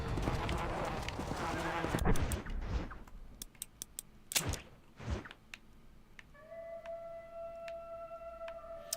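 Horse hooves clop in a video game, a few scattered hoofbeats with short gaps, followed by a sustained tonal game sound. A voice is faintly audible in places.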